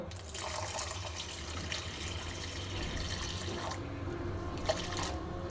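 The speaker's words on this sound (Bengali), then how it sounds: "এবার আমি আর একটু জল দিয়ে ডালটা সিদ্ধ করে নেব" Water is poured onto washed mung dal in a pot, giving a steady splashing trickle of moderate loudness with a few small drips, and no voices.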